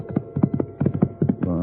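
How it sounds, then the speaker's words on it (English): Horse hooves ride across the desert in a radio drama: a brisk, rhythmic clip-clop of about eight hoofbeats close up, leading into a sustained rumble at the end. "I dug my heels into my horse and rode to where he had fallen."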